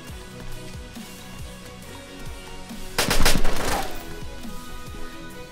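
A short, loud burst of rapid automatic gunfire in the DayZ game, lasting about a second amid steady background game noise, with repeated low thuds before and after.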